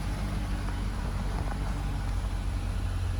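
A 2010 Corvette Grand Sport convertible with a six-speed manual idles in a steady, even drone, moderately loud and close, with no voices.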